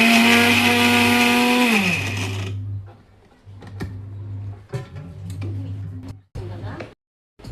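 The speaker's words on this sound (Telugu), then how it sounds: "బాగా మెత్తగా గ్రైండర్ చేసుకోవాలి" A mixer grinder whirs loudly as it grinds ginger and coriander seeds with salt into a fine paste, running for about two seconds and then winding down, followed by quieter clatter and knocking sounds.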